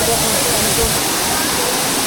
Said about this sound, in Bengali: এই ঝর্ণাটা